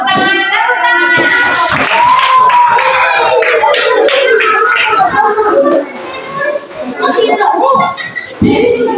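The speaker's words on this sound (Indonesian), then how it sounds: "Tepuk tangan, tepuk tangannya." Children clap together in a classroom during a teaching simulation, a dense burst of hand claps mixed with loud child chatter and an adult voice calling out over them.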